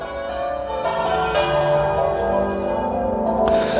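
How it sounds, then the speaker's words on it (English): Church bells rung by a team of bell ringers peal loudly in an English town, overlapping tones ringing out in a steady tumbling sequence with no talking. "they're having a good session out of these bells"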